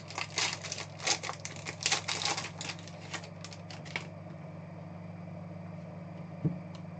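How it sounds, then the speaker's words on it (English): Trading card packs from a 2018 Panini Impeccable football hobby box are torn open, with quick crinkly tearing and rustling bursts for about four seconds, then a low steady hum and one soft knock, no talk. "We'll open up the cards first, though."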